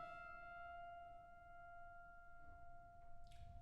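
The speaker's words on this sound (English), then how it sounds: "this is the neighboring string that was also hit by the hammer" Faint sustained ring of a neighboring grand piano string set vibrating by the hammer, a quiet steady tone with clear overtones that lingers alone, with a few soft knocks near the end.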